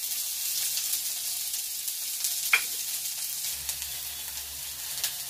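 Garlic and onion frying in a pan for ghol sabzi, a soft continuous high sizzle with a few sharper spits and a light stir or tap midway, no talking.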